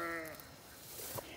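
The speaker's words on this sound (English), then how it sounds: "You can probably hear them throughout the whole entire video." A sheep bleats once, clearly and at moderate distance, at the start, followed by faint farm background noise.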